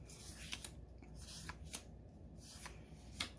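Quiet, close shuffling of a card deck, with soft riffling and a few sharp snaps and taps recurring in an uneven rhythm against low background hiss.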